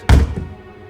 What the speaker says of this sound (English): The banging continued, causing the door to shiver and creak.